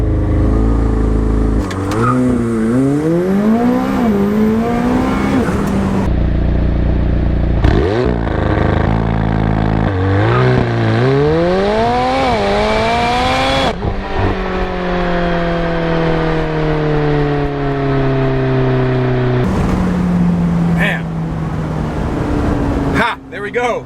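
McLaren 720S street car doing a launch-control 0-60 mph run: a loud, close engine roars and climbs in pitch through several quick upshifts, each marked by a brief break before revving up again.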